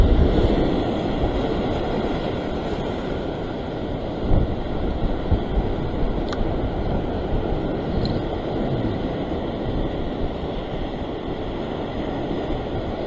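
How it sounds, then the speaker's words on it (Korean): Strong wind buffets the microphone at a coastal sea float-fishing spot, a steady broadband roar with gusting rumble running the whole time, no voices. "바람이 너무 세게 불어서 입질인지 바람이 막 헷갈릴 정도로 불고 있어요 지금."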